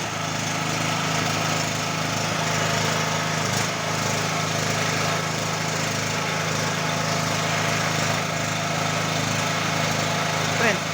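A Stanley SG 3100 generator's engine runs while warming up, a loud, steady, unbroken drone that holds an even pitch throughout, heard up close.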